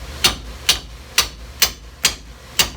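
Six sharp metallic hammer strikes knock out a bolt on a Ford F-150 front suspension at a steady, even pace, each ringing briefly before the next blow, close and fairly loud with no talking.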